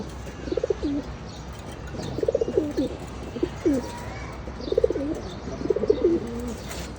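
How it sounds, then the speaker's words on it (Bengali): Domestic pigeons kept in a loft give repeated soft, throaty coos in short bursts over a low background hum, with a few faint chirps. "এই যে কবুতরগুলা,"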